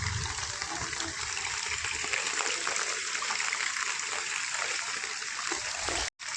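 Rainwater floods through a village street, rushing and splashing in a steady, broad wash, with faint voices in the background before it briefly cuts out near the end.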